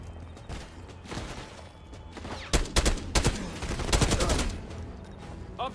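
Gunfire in Call of Duty: Black Ops 6 inside a dictator's palace, with scattered shots building into sharp, dense bursts of automatic fire, some near and loud, others more distant.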